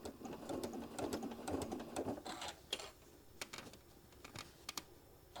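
A sewing machine stitches through a small fabric travel case for a mini iron, running in short quick bursts of rapid clatter with brief pauses and clicks between, close by and fairly quiet.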